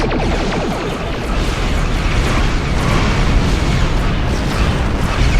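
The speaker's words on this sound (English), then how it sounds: "High yield photon torpedoes." High-yield photon torpedo explosions in a Star Trek Online space battle, a loud continuous barrage of booms and blasts rumbling without a break.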